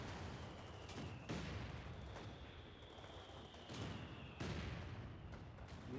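A Wehrmacht Panzer IV tank firing in Company of Heroes 2, several heavy booms spaced a second or two apart over a constant battle rumble, with no talk.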